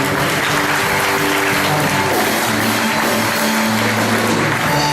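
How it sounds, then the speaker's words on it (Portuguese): A church congregation applauds during a worship service, giving loud, continuous clapping and cheering that fills the sanctuary, with sustained musical or organ-like tones running underneath throughout. "possa dar uma grande salva de palmas para o Senhor Jesus"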